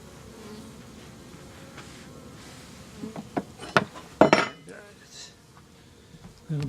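Honeybees buzz in a steady, low drone around a beehive, joined midway by a few sharp knocks and clinks from hive parts.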